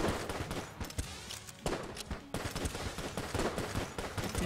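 Rapid game gunfire from the co-op dungeon shooter Enter the Gungeon, dense bursts of clicky shots and fusillade-like volleys packed over about four seconds with a brief lull midway, fairly quiet overall, no talking.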